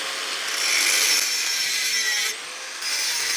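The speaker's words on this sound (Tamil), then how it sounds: "அப்படியே கட் பண்ணிக்கலாம்." A saw cuts through the front section of an old bicycle frame with steady, loud rasping strokes close by, briefly dropping off for a moment before the cutting resumes.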